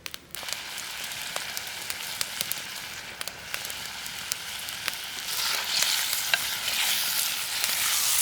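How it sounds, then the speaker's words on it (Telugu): Country chicken being stirred in hot oil in a pot for curry: continuous close sizzling and frying hiss with repeated scraping clicks of the spoon, growing slightly louder and brighter toward the end, no voices. "ఈ నాటుకోడి మొత్తం నూనెలో కలిసిపోయేంత వరకు చక్కగా కలుపుకోవాలి"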